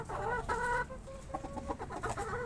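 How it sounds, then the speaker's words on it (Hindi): A rooster and hens cluck and chatter together nearby around a bucket, several overlapping calls in an uneven, continuous back-and-forth with no speech. "मुर्गा कुछ समझाने की कोशिश कर रहा है जो कि सिर्फ मुर्गियों की ही समझ में आता है।"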